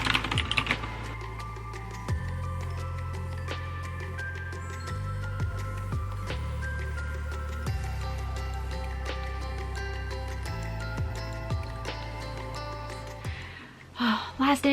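Keyboard typing on a computer as fiction is written during a writing camp, steady clicking running nearly throughout over a low, sustained music-like background hum.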